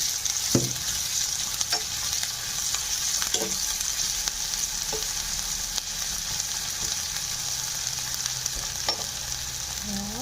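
Onions added to hot oil with green chilies fry in a pan with an even, continuous sizzle, broken by occasional soft spoon knocks and stirring scrapes, close up with no voices.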